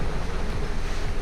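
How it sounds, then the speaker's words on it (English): Bumpy, choppy sea washes steadily around a sailing boat at sea, a dense, continuous rush of water and wind with no pauses. "The sea is too bumpy."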